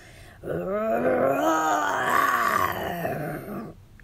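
A person imitates a lion's roar into a microphone, a long, loud, growling voiced roar lasting about three seconds that rises and then trails off.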